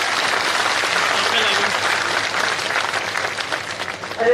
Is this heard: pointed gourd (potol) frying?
no